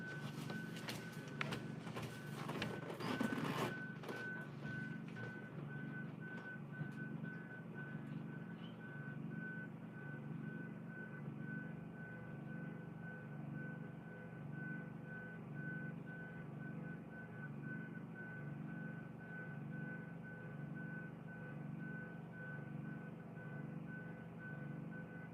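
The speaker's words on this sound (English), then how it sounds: "Somebody don't hear that damn alarm going on?" Alarm beeping in a steady, repeating pattern throughout, with a louder burst of clattering noise near the start, then a continuous electronic beep over a low mechanical hum.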